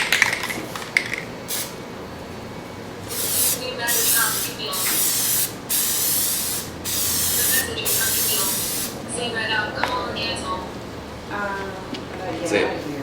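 Black Plasti Dip rubberized coating sprayed from a can onto a vehicle emblem in several sustained hissing bursts of a few seconds each, close and loud, with short pauses and clicks between them.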